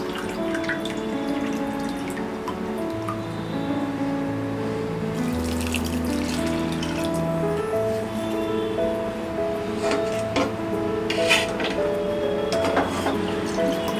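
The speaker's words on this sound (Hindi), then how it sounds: "स्प्राउट्स में हम डालेंगे 1 कप पानी" Water pours steadily into a metal pressure cooker holding chickpea sprouts for several seconds, splashing continuously with a faint background hum and clinks near the end.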